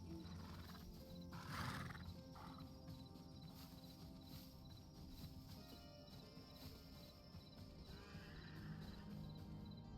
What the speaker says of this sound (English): Horsies. Hey, little horsies.